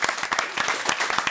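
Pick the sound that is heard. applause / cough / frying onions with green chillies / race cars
applause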